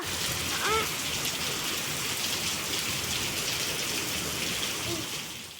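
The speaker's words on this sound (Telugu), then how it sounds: "ఇది చూడాద్యా వర్షమా నువ్వు చూసావా అద్యా" Rain falls steadily in a garden with plants, a dense, even hiss of drops on surfaces that stays constant and fairly loud, with a faint call or chirp briefly audible in the background.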